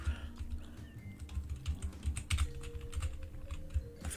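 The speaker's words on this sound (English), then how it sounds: "Furious typing." Rapid, furious typing on a computer keyboard, a dense run of close key clicks that carries on steadily throughout.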